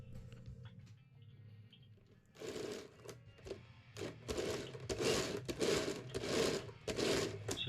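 Wooden automaton cyclist mechanism worked by a lever with an eccentric drive into the gear, starting faintly then breaking into a rapid run of close, quiet wooden clicks and rattles.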